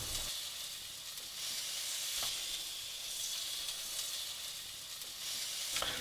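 Crumbed cod loins and a rosti sizzle together in a frying pan on a small Salamander cook stove, a steady close hiss with a few faint clinks and no talking.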